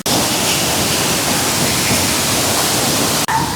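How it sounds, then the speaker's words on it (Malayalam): Vettuthodu waterfall near Kadampuzha pours in a dense, steady, hissing roar, loud and close, with no break in the rushing water. "സൈഡിൽ ഇങ്ങനെ അടിപൊളി വെള്ളച്ചാട്ടം ഇങ്ങനെ ഒഴുകിക്കൊണ്ടേക്കാം"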